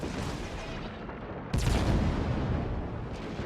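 A heavy naval gun salvo in World of Warships, a sudden loud boom that breaks over a rumbling wash of battle ambience and then rolls away, heard close with no talking.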